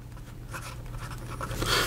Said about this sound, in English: So here we go with the writing sample for the Sailor